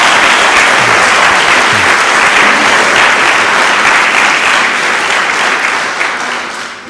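A church congregation applauds loudly and steadily, a dense wash of clapping that carries for several seconds before tapering off at the end.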